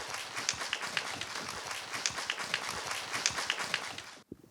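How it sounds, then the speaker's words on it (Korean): An audience at a Korean art symposium on painter Ha Chong-Hyun applauds a presenter, a dense steady patter of many hands clapping for about four seconds before cutting off abruptly. "큰 박수 부탁드립니다."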